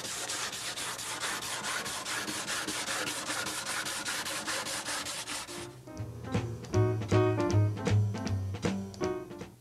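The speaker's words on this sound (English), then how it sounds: "stand again, perimeter, and then fill in the center, but we're using 100 grit this time." Mission oak furniture being sanded by hand with 100 grit sandpaper, fast rhythmic rubbing strokes up close for about six seconds, then music takes over.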